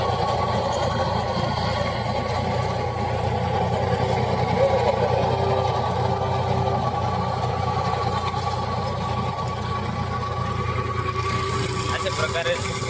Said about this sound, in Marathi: आणि ट्रॅक्टर पण लोडवरती येतो.